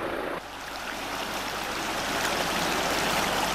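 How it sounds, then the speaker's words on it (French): River in a northern Mexican town, fed directly by sewer outflows, rushes and splashes in a continuous loud broadband flow, steady and close throughout with no voices. "Les égouts aboutissent directement dans cette rivière."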